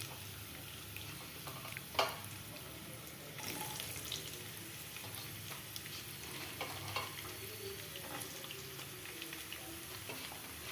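Chopped onions sizzle softly in hot oil, a steady faint crackle with occasional stirring clinks and a brief clatter.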